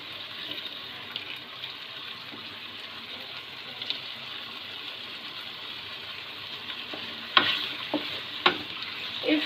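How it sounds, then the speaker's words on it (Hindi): Chicken frying in a pan with garlic, ginger and onion, a steady soft sizzle close by with occasional scrapes and stirring clicks, no talking. "इसको अच्छी तरह से पकाना है लहसुन अदरक और प्याज में"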